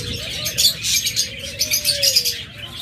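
A yellow-collared male Fischer's lovebird chirping up close, a rapid string of sharp, bright tweets in quick bursts, with a thin whistle-like tone running underneath.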